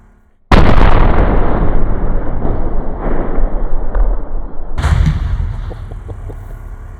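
A hand grenade detonates at a ballistics test range with one sudden, very loud blast, followed by a rolling rumble that flutters and fades, then a second sharp crack and a thinner, decaying echo.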